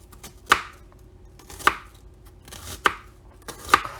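A knife chopping an onion for pasta bolognese on a cutting board, four sharp, evenly spaced thuds with soft sounds between them, close up and with no talk.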